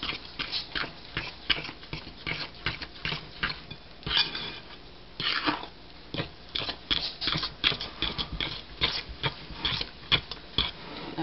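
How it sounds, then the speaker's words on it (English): Pepperoni roll dough being stirred in a bowl: a spoon knocks and scrapes against the sides in irregular close clatters throughout, with a little quiet talk. "we're just going to stir this around until it pulls together"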